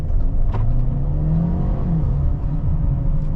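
A 2024 Mercedes-Benz GLB 250 with 221 horsepower and an 8-speed gearbox pulls away in drive, its engine a steady low drone with a rising tone, loud and close, no talking.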